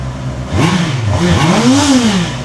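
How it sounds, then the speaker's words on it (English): Two Honda motorcycle engines fire up and rev in quick rising-and-falling bursts, loud and close, with a throaty mechanical growl. "We'll just start both bikes and see what they sound like in stereo."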